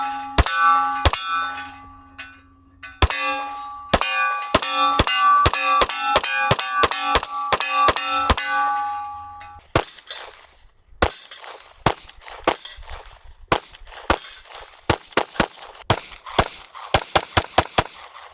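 Gunshots from a Springfield Armory Echelon polymer-frame striker-fired pistol at a range, first as spaced single shots with ringing steel-target clangs, then as a faster string of sharp cracks that quickens toward the end.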